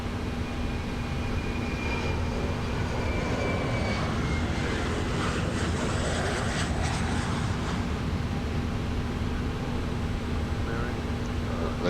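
Steady, continuous roar of a KLM 737-800's jet engines on a snowy takeoff at Munich in MSFS 2024, a dense, unbroken broadband rush with a faint whine, constant in loudness throughout.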